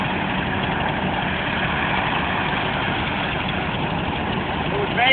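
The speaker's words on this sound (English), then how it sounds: "Tractor sat in the field for 6 years." A 1947 tractor that sat in a field for six years idles after repair, a steady, loud, rough engine drone that runs unbroken throughout.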